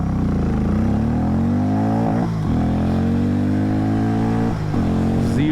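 Harley-Davidson X440 S motorcycle pulling hard in first gear, its single-cylinder engine note climbing steadily in pitch with brief dips at each shift point, loud and close throughout with no talking.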